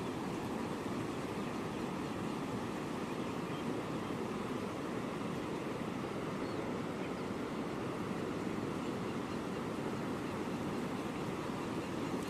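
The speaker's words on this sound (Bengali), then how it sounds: "দেখুন কীভাবে জল বাড়ছে" The Murti River in Jalpaiguri surges and rushes as its water rises after rain in the hills, a steady, broad roar of flowing water without pause, moderately loud and continuous throughout.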